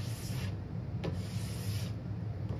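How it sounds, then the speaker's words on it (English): A small plastic scraper rubs and scrapes leftover wax off a snowboard base in a steady, soft, continuous rasp, close and fairly quiet, with one brief sharper stroke. "so you basically aren't getting any more wax off anymore, and then I switch to the smaller scraper"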